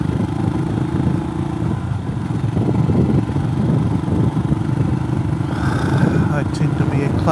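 A Himalayan motorcycle with a sidecar runs steadily with its clutch slipping, a continuous mid-pitched engine drone with some clatter throughout and a rider speaking over it.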